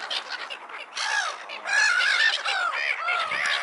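Several large birds squawking and honking while fighting over food, loud, harsh, overlapping calls in quick bursts close by, with a brief quieter gap midway.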